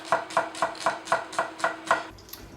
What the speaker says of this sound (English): cut your shallots